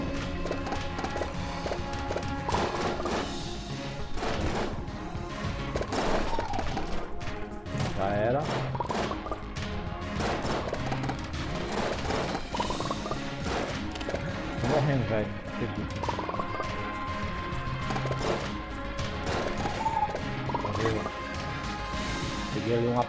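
A chaotic gunfire shootout in the PS4 game Enter the Gungeon: dense, rapid shots, crashes and impacts pile up continuously and loudly, with game music and effects layered throughout.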